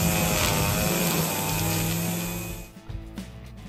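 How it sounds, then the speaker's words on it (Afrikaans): A petrol weed eater cuts grass up close, its engine a steady high-pitched buzzing drone that runs loud and continuous for most of the moment, then eases off and sputters near the end. "hy gebruik wat ons noem 'n weed eater"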